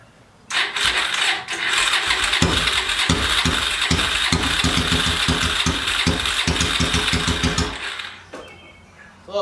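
An 800cc pulling tractor engine cranks and catches, then settles into a loud, close, rhythmically pulsing idle for several seconds before cutting off near the end; no one speaks.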